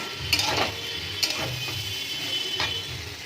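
Okra and pumpkin frying in a pan while a spatula stirs them, soft scraping strokes and light clinks over a steady low sizzle, close and moderately loud, with no talk.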